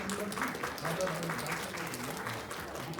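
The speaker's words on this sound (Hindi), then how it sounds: "तालियों से प्रोत्साहन बढ़ाइएगा बच्चों का" Audience applause for children at the Japan Uttarakhand Sangathan Utsav, a community cultural event, heard as dense, steady clapping from a crowd at a moderate, even level throughout, with some voices mixed in.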